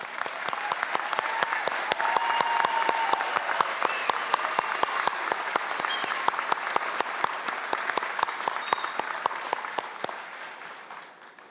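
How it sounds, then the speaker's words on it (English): Graduating students at the Skagit Valley College 2025 commencement ceremony in Mount Vernon burst into loud, sustained applause, a dense crowd of clapping that holds steady for about ten seconds before tapering off. "go ahead and give yourselves a round of applause"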